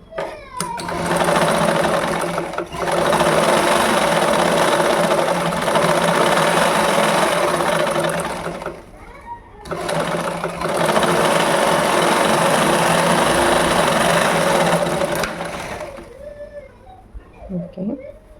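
A sewing machine stitches a blouse sleeve in two long, loud, steady runs separated by a short pause, with faint voices and handling noise at the start and end.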